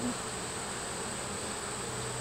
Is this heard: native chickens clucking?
no